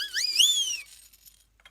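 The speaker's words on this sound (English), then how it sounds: "The siren whistle." A siren whistle gives a short rising and falling wail lasting under a second, then fades into faint rustling and a small tap.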